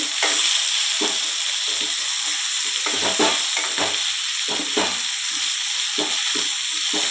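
Brinjal sizzles and fries in oil in a pan, a constant bright hiss broken by repeated scraping stirs at an uneven rhythm, close and fairly loud with no voices.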